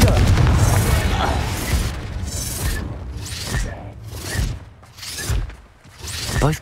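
Fiery Confringo spell blasts go off in the Hogwarts Legacy video game, with deep booming explosions and bursts rising and falling in several waves amid game effects and voices.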